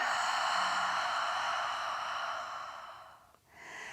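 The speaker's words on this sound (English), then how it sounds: "exhaling through your mouth, and again nice big breath in, exhaling" A slow, deep breath out through the mouth during a restorative hatha yoga class, a long breathy rush that fades, then a short quiet pause before the next breath begins.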